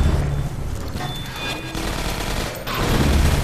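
Automated turrets firing in the video game Half-Life 2: Episode 1, a steady loud rattle of rapid gunfire running through the whole stretch with dense bursts and no voices over it.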